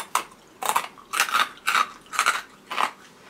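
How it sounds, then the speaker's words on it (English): Pork scratchings being chewed, six loud, evenly spaced crunchy bites close to the ear, each a bright crackling burst, with no talk over them. "it's so crunchy that when you crunch it, it actually makes your vision blur"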